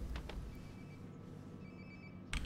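In-game phone ringing in Life Is Strange: Before The Storm, a muffled repeating ring heard faintly at a distance with a brief louder burst near the end.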